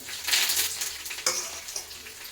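Onions fry in a pan with a bright, steady sizzle that swells and fades, punctuated by a couple of stirring scrapes, close by with no talking.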